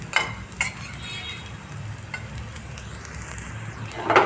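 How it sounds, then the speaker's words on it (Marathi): Bitter gourd chakli frying in a little oil in a pan, giving a soft continuous sizzle broken by a few clinks of a utensil against the pan. "दोन्हीही बाजूने आपल्या ह्या आपल्या कारल्याच्या चकल्या मस्त अशा फ्राय झालेल्या आहेत"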